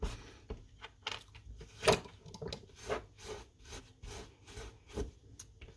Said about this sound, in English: I'll just take some steel wool to some of these metal washers here and just try to take off any tarnish or discoloration